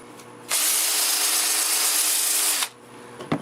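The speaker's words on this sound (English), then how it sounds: "I think it's time to sand the inside" Sandpaper is pressed inside a spinning wood-turned bowl on a lathe, making a loud, steady, rushing whine that runs about two seconds and then cuts off abruptly, leaving quiet room noise.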